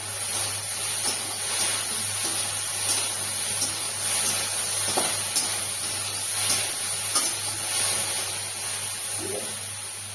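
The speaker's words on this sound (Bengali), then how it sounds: "লুচিটা ভাজা হয়ে গেছে।" Luchi fry in hot oil, giving a continuous, even sizzling hiss with a few faint pops and knocks from the pan, moderately loud and with nobody talking.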